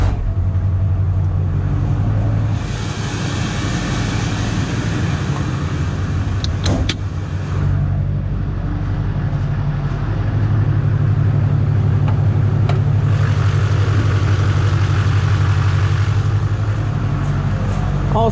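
An LBZ Duramax diesel engine runs at a steady, loud idle with a deep, even drone and a brief clatter partway through.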